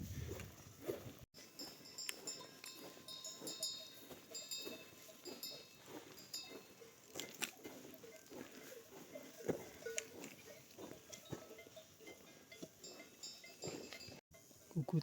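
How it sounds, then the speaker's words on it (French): A herd of about a hundred cows grazing high beside a mountain trail fills the air with scattered, irregular clanks of cowbells and occasional faint animal calls, quiet and somewhat distant outdoors. "Il y a un troupeau de vaches ici."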